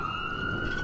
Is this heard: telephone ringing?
no